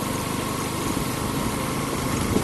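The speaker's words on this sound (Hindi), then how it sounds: "अभी खुल के नहीं चल रहा है इंजन इसका" A motorcycle engine runs steadily at low speed after a service, hot and not revving freely. It gives a continuous, close, loud droning hum with little change in pitch, and no one speaks.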